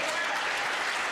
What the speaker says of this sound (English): And a round of applause to Brad.